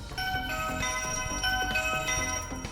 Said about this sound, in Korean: 초인종 누르고요